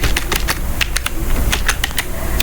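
Rapid keystrokes on a computer keyboard clatter in an uneven run of close, crisp clicks over a steady background hum, with no one speaking.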